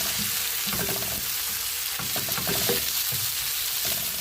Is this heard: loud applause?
no